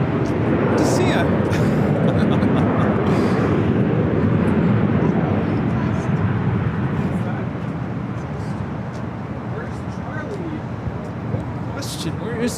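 An Airbus A380 at LAX produces a broad, loud jet roar that slowly fades, with voices chatting close by over the engine noise.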